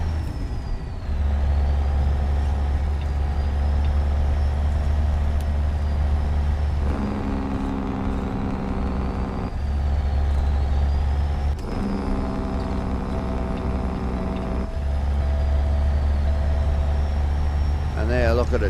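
An owner-operator Kenworth W900 idles and drives with a low steady engine drone, interrupted by several sharp hissing air brake releases, heard from inside the cab in a realistic truck driving video game.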